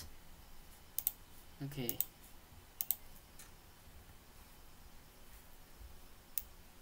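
Mouse clicks and a few keyboard taps while creating a new folder on a computer, sounding as sparse crisp clicks in small clusters, close and quiet, with a brief spoken word amid them.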